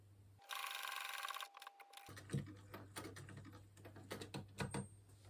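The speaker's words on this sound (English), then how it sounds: "Now you stop sewing at the end of the slash" A sewing machine stitches fabric seams for Regency pantaloons, a fast close mechanical whirr for about two seconds, then stops and gives way to scattered small clicks and handling taps.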